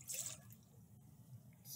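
Water poured into a mixing bowl for a witches brew recipe, a faint trickling splash with bright bursts at the start and end, quiet and alone.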